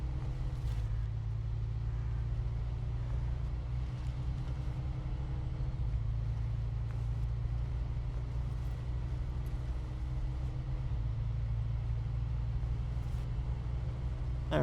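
A heavy truck engine in SnowRunner drones steadily and loudly while driving through mud, a continuous low rumble with no breaks and no talking over it.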